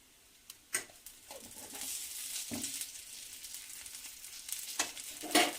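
Carrot upma is stirred in a pan after ghee goes in, giving a soft, steady sizzle broken by a few sharp scraping knocks of the spoon against the pan, close by and without talk.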